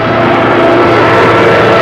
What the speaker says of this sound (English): a lone Nazi plane dives out of the sky, comes in very low, and unloads its bombs